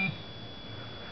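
A single short electronic beep sounds as the up and plus keys are pressed together on a handheld timer to start it running, clear and close with a faint steady tone lingering afterward.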